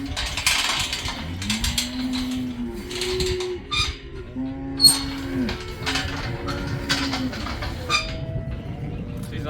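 Cattle on a rural station moo repeatedly, with several drawn-out calls overlapping from a moderate distance amid shuffling and general outdoor noise.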